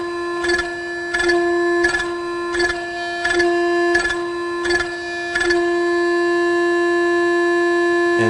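A Sigma-5 servo motor oscillates during auto-tuning, giving a steady, loud multi-harmonic tonal whine. It swells in about seven regular pulses, roughly one every 0.7 seconds, then holds steady.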